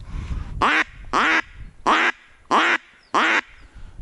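Five loud, bright mallard duck quacks in a steady, evenly spaced series, close by, with quiet outdoor background between them, during a spring duck hunt.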